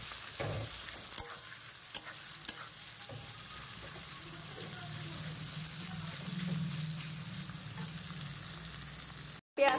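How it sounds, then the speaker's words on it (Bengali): Chopped onions fry for a Bengali mutton curry in a pan with a steady, soft sizzle, close by, broken by a few sharp clinks of stirring utensils, with no talking. "পেঁয়াজটা দেখো ফ্রাই করা হয়ে গেছে"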